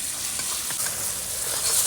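Onions and tomatoes fry in a pan, a loud, dense, continuous sizzle with faint stirring ticks throughout, close and unbroken, with no voices.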